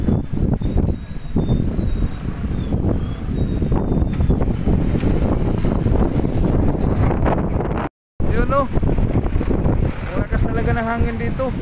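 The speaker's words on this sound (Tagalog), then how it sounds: "Hangin dito." Wind buffets the microphone on a seaside boulevard as a steady, loud roar with low rumble, cutting out briefly near the end, while voices talk faintly underneath.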